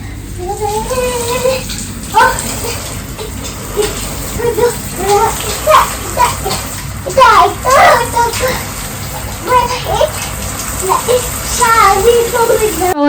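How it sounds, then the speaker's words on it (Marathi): A young girl splashes and plays in bath water at home, steady running and sloshing water close by with her excited voice and chatter rising over it throughout. "चांगल्या मस्त पाण्यामध्ये तिचा धिंगाणा चालू आहे"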